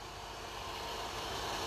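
A Mercedes-Benz 5000cc V8 engine idles with a smooth, steady broadband rumble and hiss, even and continuous, heard close without talking.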